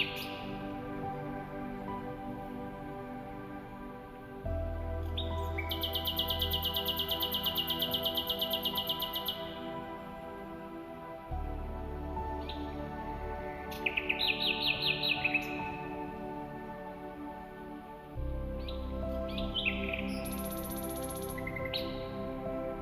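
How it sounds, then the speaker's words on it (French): A nightingale sings at night, loud and close, with repeated bursts of rapid trills, whistles and chirps separated by brief pauses, against a soft steady background. "le rossignol chante sans relâche"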